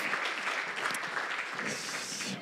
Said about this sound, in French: On l'applaudit parce que c'est audacieux puis créatif.